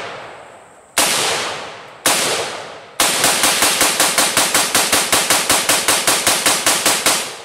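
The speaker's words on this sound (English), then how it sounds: "Placing the weapon on safe to semi. Commencing fire." An M4 rifle fires at bone: three single loud shots a second apart, then a rapid steady string of about twenty-five sharp cracks, each close and loud with a short ringing decay, and no voices.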